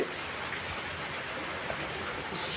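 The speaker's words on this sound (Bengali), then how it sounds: "এবং বৃষ্টি পড়ছে" Steady morning rain falls on surfaces outdoors, a continuous even hiss with no breaks, close and fairly loud throughout.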